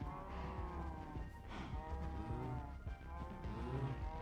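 Many Minecraft cows mooing at once in the FTB Skies modpack, a dense overlapping chorus of low, drawn-out bovine calls from a large crowded herd, steady and loud throughout with no talking.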